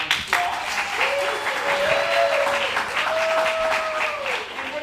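A theatre audience at an improv theatresports show claps in a sustained round of applause, while a faint tonal whine runs underneath.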